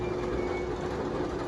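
Twisted Cyclone roller coaster train at Six Flags Over Georgia, a steady rumbling rail hum with a faint tonal whine, close and continuous, with no talking.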